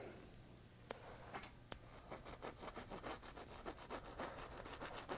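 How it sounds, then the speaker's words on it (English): A palette knife loaded with liquid white scraped back and forth across a canvas, a dry, gritty rubbing in quick repeated strokes, close and soft, with no voices. "Now you're just kind of sawing the line in"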